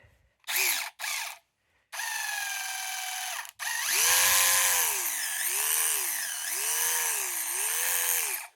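A 12-volt cordless power tool with an oil-resistant body and 3 amp hour battery, its trigger locked on, runs in a few short bursts and then holds a steady whine whose pitch rises and dips repeatedly, close and loud.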